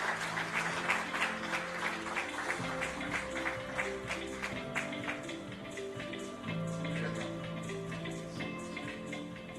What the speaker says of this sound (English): A big round of applause for Shri Lakshmi Narasimhamurthy.